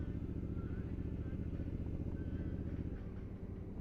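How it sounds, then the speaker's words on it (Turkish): A motorcycle engine runs steadily and close up, a continuous low rumble through the whole stretch that eases slightly toward the end, with faint talk underneath. "çok kötü sürüyorsun motoru ya"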